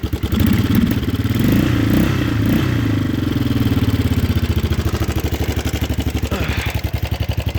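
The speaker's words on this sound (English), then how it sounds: "So I'll start it up for you. Yeah, it fires right up." A 1988 Yamaha Big Bear 350 four-wheeler engine idles close by, a loud, steady, rapid mechanical putter with some clatter, running continuously and unaccompanied.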